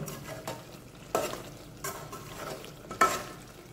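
Doi murgi, a yogurt chicken curry, simmers quietly in a pan while a spoon stirs it now and then, giving soft, close scraping strokes over a low bubbling sizzle.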